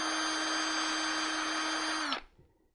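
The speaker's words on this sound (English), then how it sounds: "My next step is to drill some pilot holes for my leaves" A power drill whirs at a steady high pitch for about two seconds drilling pilot holes in a garden plate, then winds down and stops abruptly, close and loud.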